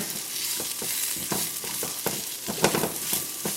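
Mushrooms seasoned with salt and pepper sizzle in a hot pan, a steady frying hiss broken by quick, rhythmic scrapes of stirring, close up with no talk.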